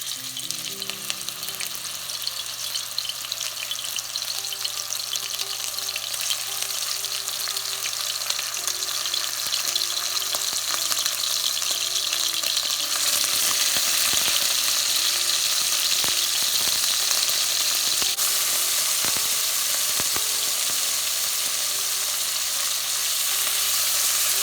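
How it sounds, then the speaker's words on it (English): Marinated pork ribs sear in a hot pan with a loud, continuous sizzle that swells and roars brighter partway through, close and steady throughout with no voices. "after 30 minutes that we marinated our ribs, we can then start searing it"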